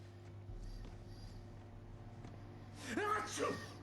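A sneeze bursts out near the end of a quiet stretch of the video game Alan Wake Remastered, a sharp breathy outburst over a low steady hum, close and fairly loud.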